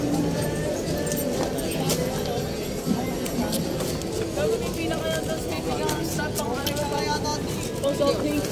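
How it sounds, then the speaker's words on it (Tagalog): Horse hooves clip-clop on a hard surface amid outdoor bustle, a steady uneven rhythm of hoof strikes fairly close by, with people talking over it and passing traffic in the background. "nandiyan yung kabayo ko sa loob"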